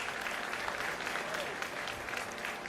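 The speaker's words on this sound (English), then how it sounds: "Give yourselves a round of applause." A live audience at PAX Arena during PAX West 2025 claps in a continuous, even round of applause lasting a few seconds, fairly close and full, with no speech over it.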